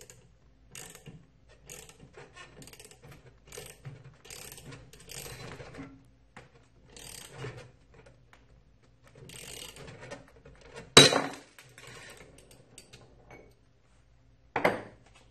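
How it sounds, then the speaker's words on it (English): Drive screw of a Newage CPST pin Brinell hardness tester being ratcheted down by hand, a series of quiet, rapid mechanical clicks in short bursts, then a sharp louder snap near the end as the pin breaks, followed by another crack. "And ratchet down the drive screw until the pin breaks."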